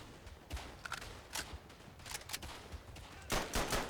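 Faint gunfire from the World War I shooter Verdun: scattered, distant-sounding shots and short bursts crackle over a low, steady background.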